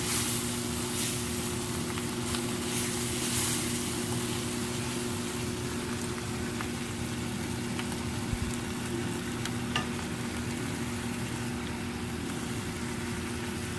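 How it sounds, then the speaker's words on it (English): Spinach fries in a pan in a home kitchen, a steady, moderately quiet sizzle running continuously with a faint low hum underneath and occasional small crackles. "Spinach to the frying pan,"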